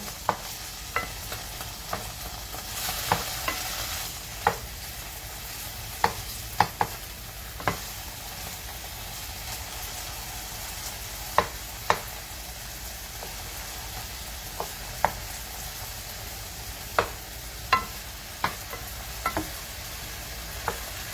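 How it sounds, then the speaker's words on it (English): Beef stir-frying in a pan with soy sauce, a soft continuous sizzle broken by irregular sharp clicks and scrapes as the meat is turned, fairly quiet and close, with no talking. "I'm just turning the meat over in the pan here."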